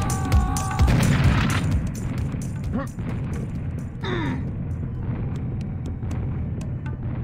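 Loud boom of a charged-trigger weapon's explosion in a video game, a heavy burst at the start followed by rumbling debris and game effects, with a voice talking faintly underneath.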